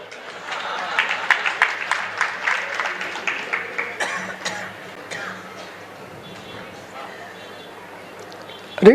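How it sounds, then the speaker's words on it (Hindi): An audience at a Jain religious discourse claps for several seconds in a regular, rhythmic beat, then the claps thin out into a murmuring hall with voices underneath and a sharp sound at the very end. "तुम ताली महिलाओं के लिए बजा रहे हो, अब बजाओ अपने लिए।"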